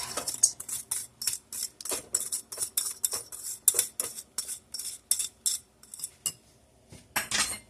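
Strawberry frozen custard being mixed in a bowl, producing a steady run of close, sharp clinks and scrapes of a utensil against the dish at a quick, uneven rhythm, with no talking.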